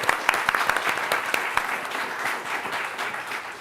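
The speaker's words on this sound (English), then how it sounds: "Let's give her a round of applause." A room of attendees at a startup demo day claps for a program manager being introduced, crisp individual claps standing out at first before blending into a steady, moderately loud round that gradually tapers.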